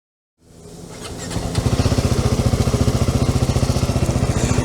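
A lawn mower engine starts up and runs steadily nearby, its throbbing motor loud and continuous, outdoors near a restaurant at Rockbridge.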